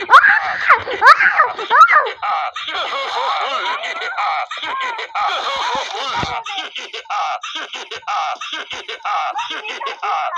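A person screams and shrieks loudly in bursts while playing a game with a friend, the cries mixed with laughter and excited talk that continues through the rest.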